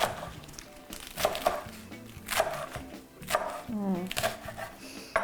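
A knife slices food lengthwise into halves on a cutting board for a rainbow Cobb salad, several crisp, evenly spaced chops close by, with a French-speaking cook talking between the cuts.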